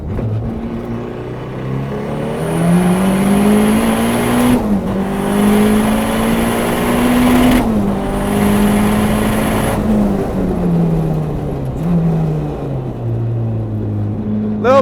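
A turbocharged race car screams at full throttle around the Gridlife CMP track, its loud engine tone rising through the gears, with brief dips at each shift and a steady, close onboard roar throughout.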